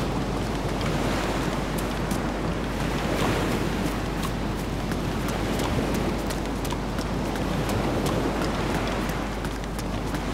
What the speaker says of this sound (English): Is the sea louder because it's rough?